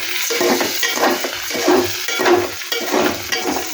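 Rice stirs in ghee in a pot for pulao, a rhythmic scraping and shuffling of grains with a soft sizzle beneath. It is close and steady, with no speech.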